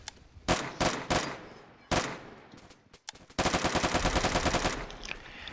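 An AI-94 rifle fires in Phantom Forces, first a few sharp single and short-burst shots separated by gaps, then a rapid rattling string of evenly spaced shots for over a second before tapering off.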